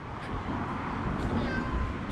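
A cat meows softly a few times over a low, steady background hum, fairly quiet and close.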